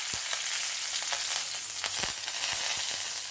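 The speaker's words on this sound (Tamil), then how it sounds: "இப்போ நான் கடாயில் எண்ணெய் விட்டுருக்கேன் கடுகு போட்டுக்கலாம்" Continuous hiss and crackle of mustard seeds frying in hot oil in a kadai, with sharp little pops and spatters scattered throughout, fairly quiet and close.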